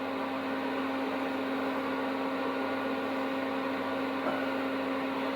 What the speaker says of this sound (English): I've still got the extractor fan on, taking all the rust dust out.